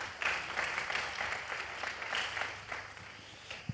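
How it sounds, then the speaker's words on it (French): An audience at a talk on taxes and society applauds, a soft and fairly distant patter of many hands that holds steady for a few seconds. "vous pouvez les applaudir"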